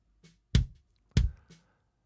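Kick drum picked up by an inside microphone delivers crisp beater clicks with a punchy low thump, two strong hits with softer ghost taps between them, close and dry with no talk.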